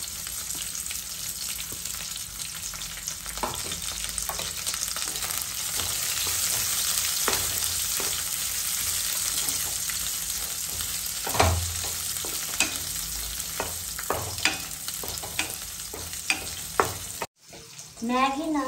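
Onions, curry leaves and chilli fry in a pan for Maggi noodles, giving a close, steady sizzle broken by frequent sharp stirring clicks, with a short drop-out near the end.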